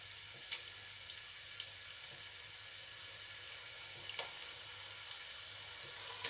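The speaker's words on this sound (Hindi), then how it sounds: "अब मैं डालूँगी इसमें प्याज।" Chopped onions frying in a pan for chana dal pulao, a steady close sizzle with faint crackles and occasional stirring scrapes, no voices.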